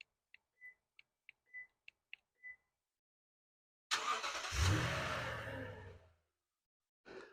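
A Toyota Tundra, remote-started by a Start-X starter, chimes a string of short relay clicks and beeps, then its engine cranks and catches with a loud roar that settles and fades, followed by a brief faint click.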